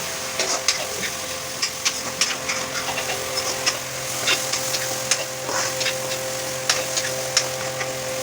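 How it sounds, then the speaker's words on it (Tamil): Onions and dried chillies fry in oil in a pan for spicy Pallipalayam chicken, a steady soft sizzle broken by irregular clicks and stirring taps, close and without talk. "நல்லா இந்த வெங்காயம் இந்த காஞ்ச மிளகாயெல்லாம் நல்லா எண்ணெயிலேயே கொஞ்சம் நேரம் வெந்துச்சு."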